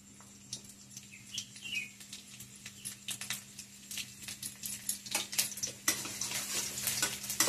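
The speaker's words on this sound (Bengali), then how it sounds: "তেলটা গরম হয়ে গেছে, এখন আমরা দিব সবজি। আগে আমরা দিয়ে দিলাম এটাই রসুন" Garlic dropped into hot oil sizzles and crackles in a steady close patter, with brief stirring scrapes and sharper spits building toward the end.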